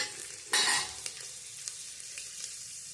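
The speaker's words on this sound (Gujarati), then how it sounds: "હવે આપણે આમાં 3 થી 4 કળી ઝીણી સુધારી લીધી છે લસણની" Finely chopped garlic, three to four cloves, drops into hot oil and sizzles with a sudden loud burst, then settles into a quieter crackle with occasional stirring scrapes in the pan.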